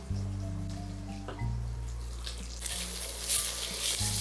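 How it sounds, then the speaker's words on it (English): Guanciale fries in a pan with a soft, continuous sizzle, heard close and sitting over a steady low hum and a few faint clicks. "Cook your guanciale, stir your pasta, crack your pepper."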